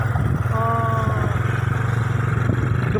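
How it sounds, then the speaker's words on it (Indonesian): A modified Supra X motorcycle engine runs on sandy ground with a steady throbbing putter and a brief rising rev tone, close and fairly loud, with no talk. "geber motor ini di area-area berpasir dan area-area rumput seperti ini sih nggak ada masalah sih ya"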